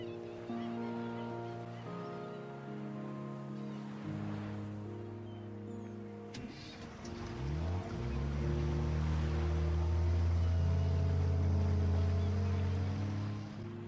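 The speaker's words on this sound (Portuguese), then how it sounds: "Olha o som do barco." A low engine drone from a boat in a video game hums under music, then swells louder and rougher partway through, the water-vehicle rumble rising and holding steady near the end.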